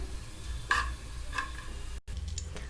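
A spoon scrapes and stirs red chili powder into green pea dal in a pot, a couple of soft clinks over a low background hum, with no talking.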